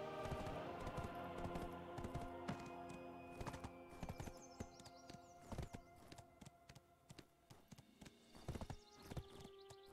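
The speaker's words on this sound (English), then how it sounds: "Let the horse auto run over to this quest." Horse hooves clattering in a steady galloping rhythm as a mount auto-runs through Odraxia in the game Black Desert Online, close and fairly loud over a background music bed, with a few sharper hoof strikes toward the end.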